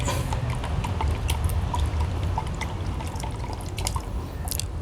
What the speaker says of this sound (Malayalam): അതിൽ നമുക്ക് വെള്ളം ഒഴിച്ച്